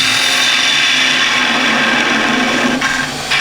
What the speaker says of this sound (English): Now while I've still got the lathe going,